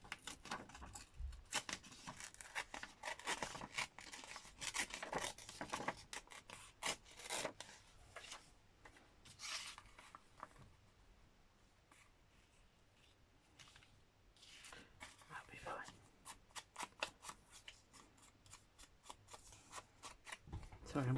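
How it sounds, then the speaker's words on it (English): Paper being torn by hand for a junk journal page, a long, close, raspy ripping and rubbing that comes in uneven bursts, easing off midway before picking up again. "Right, so if I tear it from there."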